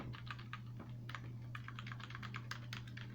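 Quiet rapid keystrokes on a new wireless keyboard, a steady irregular patter of light clicks over a constant low electrical hum, no voices.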